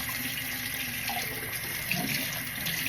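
Water runs steadily from a tap to rinse a dirty jacket, a constant close hiss with no talking.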